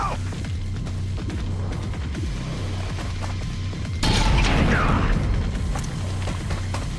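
Pistol shot in XCOM 2 with a Warhammer 40k Space Marines mod, a single loud boom landing midway that lifts the level and rings on, over a busy game background.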